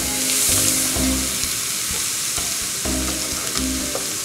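Portabella mushrooms and onions sizzle steadily in a hot pan, a continuous close frying hiss with occasional scraping and stirring knocks, no voices.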